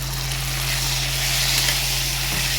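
Onion frying in a pan, producing a continuous close sizzle with a faint steady hum underneath, with no one speaking.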